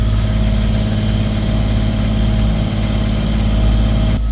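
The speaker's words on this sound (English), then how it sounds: "Oh wow! Listen to that engine." A boat's engine idles steadily right after a haul-out, a close, loud, continuous low rumble with a constant harmonic drone, running alone without talk for about four seconds before cutting slightly near the end.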